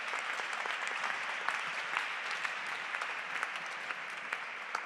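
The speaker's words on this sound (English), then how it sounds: "Please a round of applause." A round of applause from the audience at a talk on regenerative coastal design, dense even clapping that holds steady throughout with scattered sharper claps standing out.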